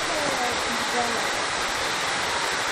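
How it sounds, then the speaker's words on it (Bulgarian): Boyana Waterfall in Bulgaria pours down in a loud, continuous broadband rush of falling water, close and steady throughout. A faint voice may be buried under it. "Това е истински водопадът."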